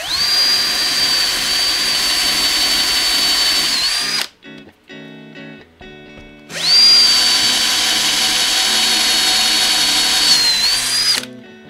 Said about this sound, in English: I'm just going to drill down to 10